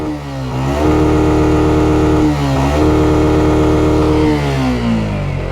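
A motorcycle engine revs hard through a flooded street in Dhaka after light rain, its steady, throaty drone rising and falling in a few swells, loud and close, with no talking.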